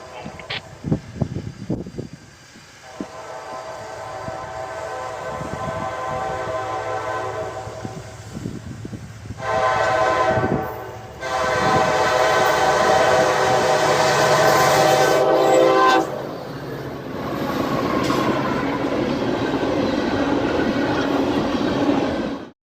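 A Norfolk Southern freight train led by an EMD SD70ACE locomotive rolls past with a deep diesel rumble, sounding its horn in long, loud blasts from close by.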